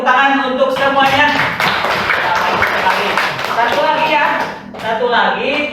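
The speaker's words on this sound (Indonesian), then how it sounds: "Tepuk tangan untuk semuanya." A primary school class claps together during a measurement lesson, busy clapping mixed with voices and chatter, loud and close, with talk returning near the end.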